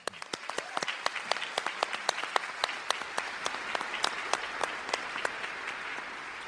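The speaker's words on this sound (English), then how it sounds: "Please give them a round of applause." Applause from the audience at an Air Force Chief of Staff welcome ceremony, crisp individual claps standing out over a steady clapping bed, moderately distant and sustained throughout without talk.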